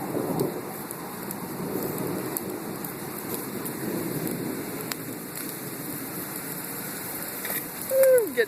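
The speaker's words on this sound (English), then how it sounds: "God, listen to that thunder." Steady heavy rain hisses throughout in Henderson, Nevada, with low rumbling thunder in the background and a brief sharp sound near the end.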